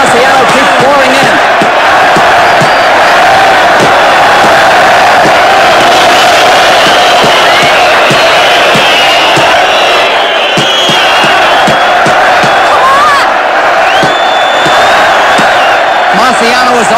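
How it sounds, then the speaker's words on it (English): A boxing crowd roars in an uproar at Madison Square Garden after a Rocky Marciano fight, a loud, dense wall of cheering and yelling that persists throughout, with an announcer's voice over it. "There's the final bell, and the crowd is in an uproar"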